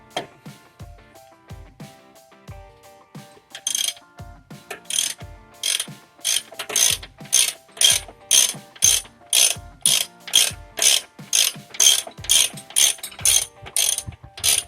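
Socket ratchet clicking as it loosens a bolt on a Chrysler 3.5 L engine while the cylinder head is removed, first a few slower clicks and then a steady, fast run of sharp metallic ratchet strokes close to the mic.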